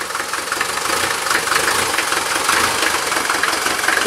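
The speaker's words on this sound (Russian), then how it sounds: "Это стартер у тебя финтит." The engine of a Mercedes 208 T1 van with a faulty starter cranks and runs roughly, a loud, continuous close rumble with a knocking, uneven texture and no talking.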